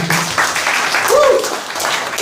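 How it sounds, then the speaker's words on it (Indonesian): Church congregation clapping fills a room in a dense, sustained burst during a Christmas service, with a few voices calling out over the applause. "tepuk tangan bagi Allah kita"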